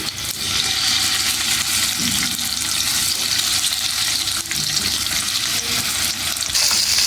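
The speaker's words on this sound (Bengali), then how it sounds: "এখন তেলটা গরম হলে আমি এক এক করে মাছগুলো ভাজার জন্য চুলায় ছেড়ে দিচ্ছি।" Catfish pieces, marinated in turmeric and salt, fry in hot oil on a stove with a steady, loud sizzle and crackle throughout.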